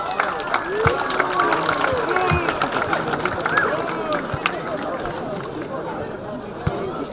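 An audience applauds at the final of a small-football tournament: dense, continuous clapping with crowd noise, and voices mixed into the clapping throughout.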